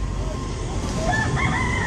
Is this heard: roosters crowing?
yes